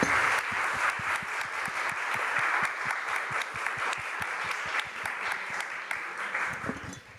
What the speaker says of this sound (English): let me join me please in round of applause for wonderful speakers in this session